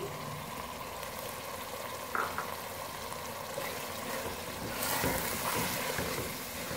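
Keema for biryani simmers on a low flame, giving a steady soft sizzle and bubbling with a couple of faint stirring knocks, close and continuous.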